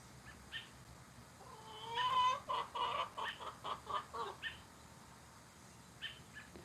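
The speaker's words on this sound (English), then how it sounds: "Oh, you have 2 roosters." Chickens in a backyard flock with two roosters cluck in a quick burst of rhythmic, throaty calls at middle distance, quiet and rising then fading, with faint background noise before and after.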